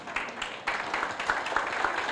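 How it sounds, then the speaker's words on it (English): Rotary club meeting guests stand to applaud new members. Steady, moderately loud clapping fills the room, with a few sharper claps standing out. "please rise, give them a round of applause"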